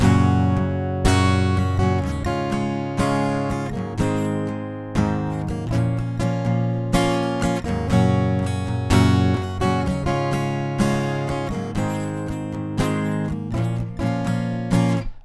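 Guitar strumming the chorus of a song, open chords played loud and full, steady rhythmic strums with accented hits throughout, close and alone.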